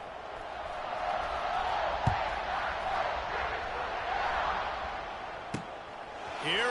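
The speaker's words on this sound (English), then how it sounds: "this crowd is buzzing after that last score" Football stadium crowd after a score, a dense, steady roar of many voices filling the space, with a couple of sharp thumps and a commentator talking over it.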